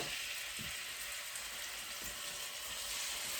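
Pieces of boneless chicken sizzling in a hot pan, a soft, even hiss of frying that runs steadily throughout, faint and without any voices.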